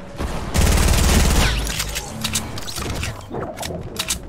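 Rapid grenade launcher fire in Fortnite's Team Rumble mode, a loud, dense volley of explosive shots lasting about a second, followed by scattered smaller blasts and gunfire rattling on in the background.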